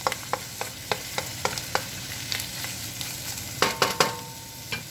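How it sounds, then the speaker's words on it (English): Onions frying for chicken chow mein get stirred in a pan over low heat, with a string of regular scraping strokes over a steady close sizzle and a couple of louder clatters near the end. "Give it a good stir."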